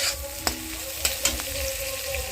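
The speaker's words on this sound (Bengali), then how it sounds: "পেঁয়াজটা আমাদের এই রান্নাটার জন্য যেরকম ভাজা দরকার সেই টাইপের ভাজা হয়ে গিয়েছে।" Onions fry in a pan with a steady close sizzle, punctuated by three or four sharp spatula clicks against the metal.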